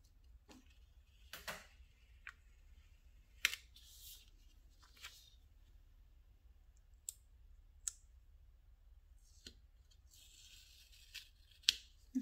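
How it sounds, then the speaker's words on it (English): Scissors snip washi tape on a Happy Planner classic dashboard page, giving a handful of quiet, scattered clicks and short cuts with brief rustles between them over near-silence. "So let me cut that."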